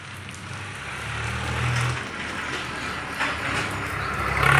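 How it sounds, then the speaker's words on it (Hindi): Heavy rain pouring down outdoors over wheat fields, a dense, steady wash of close hiss that swells slightly toward the end, with no talking. "अरे काफ़ी तेज़ बारिश आने लग गई है"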